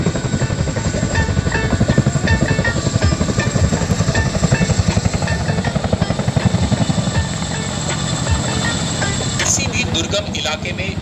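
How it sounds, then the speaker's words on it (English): Indian Air Force aircraft at the Air Force Day show over Sukhna Lake, Chandigarh, give a loud, continuous rhythmic rotor-like chop and engine roar throughout. The sound is close and powerful, with a sharp burst near the end. "You can see both the aircraft climbing up steeply and getting away as if it was nothing more than a featherweight."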